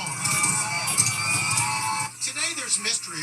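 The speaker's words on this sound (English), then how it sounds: "as a crowd cheers it on" Crowd cheering and whooping around a graffiti-covered, allegedly stolen Tesla Cybertruck doing donuts, a dense wash of voices that drops out partway, leaving scattered shouts and a nearby voice.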